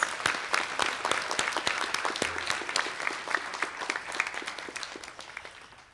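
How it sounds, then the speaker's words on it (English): Applause from the audience at an adult education graduation ceremony, a dense, steady wash of many hands clapping that holds for several seconds with no voices over it. "One final round of applause for our graduates."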